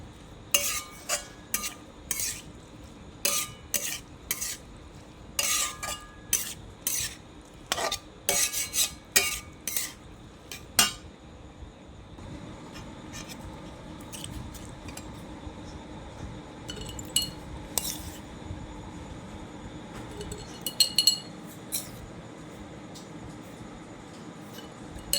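Chili pickle being spooned into a washed glass bottle, with repeated sharp clinks of a spoon against glass over steady low room noise, busier in the first half and sparser later, no talking.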